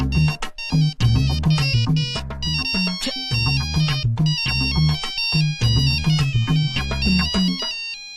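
A mobile phone ringtone plays a loud, steady melodic tune close by, with a brief break and continuing for several seconds until it cuts off.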